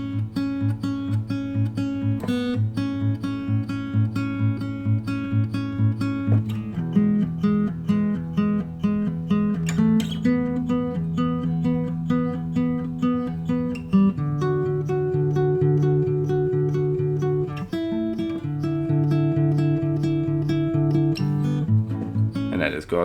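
An acoustic guitar plays the verse riff from a song slowly, with thumb and first finger alternating. Plucked notes repeat in a steady cycle over a low bass pattern, close and clear throughout.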